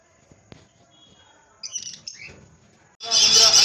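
Several small pet birds in a bird shop, lovebirds and pineapple conures among them, chirp and tweet briefly close by, then a loud rush of broadband noise cuts in at the end.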